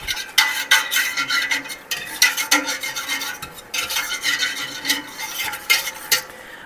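A whisk scrapes and clinks steadily against a bowl while mixing the sauce for homemade apple pie filling, a busy rhythmic metallic stirring close to the microphone with no talking.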